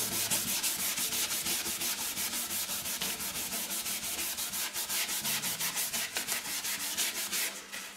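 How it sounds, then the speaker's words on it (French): Pink ivory wood being sanded with a foam-backed sanding pad: a steady, rapid back-and-forth rubbing rasp, loud and close, continuing for several seconds without speech. "quand on ponce, on n'appuie pas, et on est toujours en mouvement."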